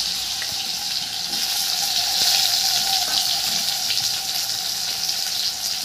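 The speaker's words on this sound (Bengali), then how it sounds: "প্রথমেই আমি মাছটা ভেজে নেব সর্ষের তেল দিয়ে।" Dried fish sizzles as it fries in hot mustard oil, a steady, close and fairly loud hiss with fine crackle throughout, no talking.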